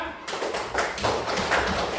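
A group of pupils clapping together in a classroom teaching session, a rapid, slightly ragged patter of many hands, moderately close, with faint voices underneath.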